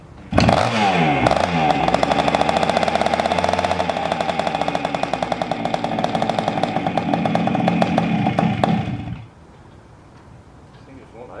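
A 1976 Honda MR175 Elsinore motorcycle engine, freshly rebuilt, revs loud and rough on choke, refusing to idle, with rapid popping strokes before cutting out abruptly near the end.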